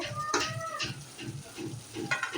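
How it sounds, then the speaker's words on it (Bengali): Sizzling of spice masala being fried down in a pan for a jackfruit and shrimp curry, with a little water added, giving a soft, steady crackle with a few brighter bursts close by. "প্রায় আমার মশলাটা কষানো হয়ে গেছে।"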